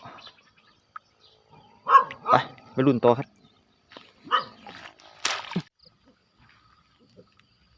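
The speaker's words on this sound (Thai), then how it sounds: "หมาก็เห่า" A dog barks outdoors beside a canal where shrimp traps are being checked, several sharp barks in quick bursts mixed with nearby speech, then quiet.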